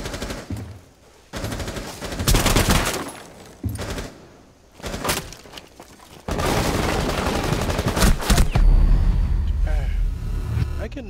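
Automatic gunfire and bursts in Rainbow Six Siege during a house team deathmatch, with loud repeated shots and chaotic combat noise across the span, sharp volleys clustering in stretches, and a voice talking in between.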